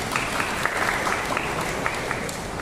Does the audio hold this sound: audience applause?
yes